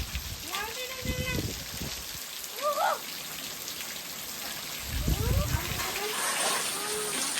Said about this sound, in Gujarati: એન પેલા તો વરસાદ આવી ગયો જો